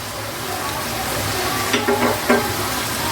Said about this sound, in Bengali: এই সব মশলা দিয়ে আমি আবার কষিয়ে নেব